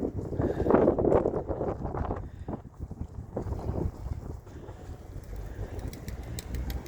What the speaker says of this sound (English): I might need to mute the audio because of the wind and just put music on.